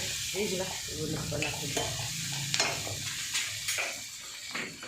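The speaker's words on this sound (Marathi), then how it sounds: "त्यातनं जरा हलवायचं असं असं. खीर चालली आहे" Kheer being stirred in a pot, with rhythmic scraping strokes over a bubbling, sizzling background while festival food cooks nearby.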